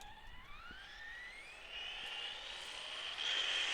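A Traxxas Slash 4x4 RC car, built as a basher on 3s and 4s power, makes a speed pass, its high electric motor whine rising steadily in pitch and growing louder as it approaches from a distance.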